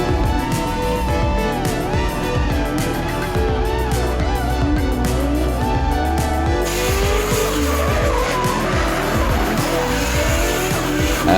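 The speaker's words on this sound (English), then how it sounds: "780 brake horsepower on the bonnet of that PS13." A 780 bhp PS13 drift car skids hard through a Pro class round of the Irish Drift Series, with loud, continuous engine roar and tire squeal running unbroken throughout.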